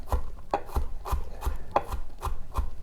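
Knife chopping ingredients for smoked mackerel corn chowder on a board, a quick run of about eight crisp close cuts in an uneven rhythm, with no talking.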